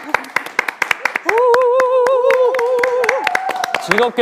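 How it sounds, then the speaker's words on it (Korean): A studio audience claps to open a live Q&A for Christmas Carol, distinct hand claps ringing out steadily in a small room while a voice talks and sings over them. "박수와 함께 시작했는데요"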